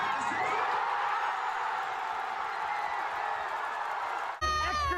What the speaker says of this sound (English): fans continued cheering their team and celebrating